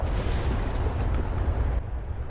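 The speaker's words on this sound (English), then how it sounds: "Didn't like that explosion." Explosion in The Elder Scrolls Online video game, a loud, dense roaring blast that holds steady, then trails off near the end.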